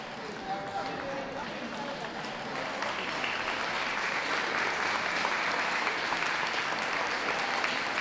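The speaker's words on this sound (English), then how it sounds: "A round of applause for them" Applause from a dog show crowd after the Terrier group judging at WELKS, a steady broadband patter that swells louder partway through and keeps going, with a voice faintly present beneath it.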